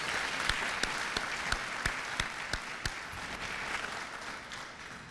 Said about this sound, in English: How about a round of applause for our sponsors?